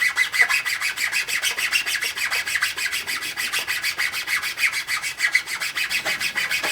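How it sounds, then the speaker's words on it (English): A chainsaw file cuts string grooves into the sides of a wooden bow, producing quick, evenly repeated rasping strokes, close and moderately loud, with no talking. "cut the string grooves in just about the depth of the chainsaw file."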